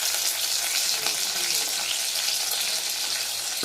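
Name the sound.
onions, chana dal, asafoetida and curry leaves frying in oil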